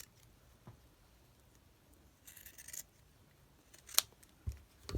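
Scissors snip fabric for slow stitching, a few quiet, close cuts spread across an otherwise hushed room, with one sharper click near the end.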